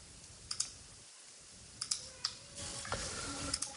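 Sharp, quiet computer mouse clicks, a few single clicks spaced irregularly, with soft desk noise and light rustling between them.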